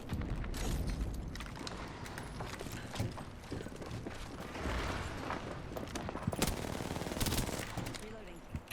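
Video game gunfire crackles in rapid bursts and scattered shots that come and go over several seconds, dense and fairly loud, with voices faintly underneath.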